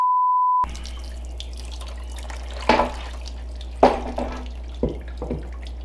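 Water drains and splashes out of the cylinders of a beginner-built Mopar engine, with a low steady trickle broken by several sharper splashes and drips. A brief tone comes first, and no one speaks.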